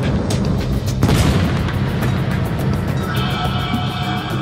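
Heavy booming blasts of a naval bombardment during the D-Day landings rumble amid a dense, continuous roar of distant gunfire and detonations, with a sharp crack about a second in.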